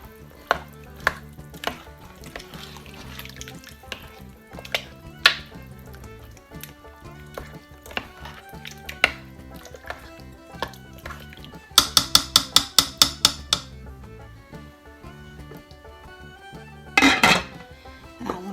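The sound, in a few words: stirring taco spaghetti soup in a slow cooker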